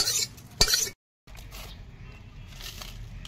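Roasted cumin, jaluk pepper and coriander seeds being stirred in a pan in a rustic village kitchen: dry scraping and clinking of a utensil against metal, a sharp knock, a short pause, then softer scraping.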